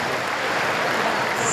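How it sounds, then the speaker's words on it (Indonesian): A hall audience claps steadily and densely at a ceremony honoring UNES for an Indonesian records museum award, a close, continuous wash of hands with no breaks. "Sekali lagi kita beri tepuk tangan yang meriah."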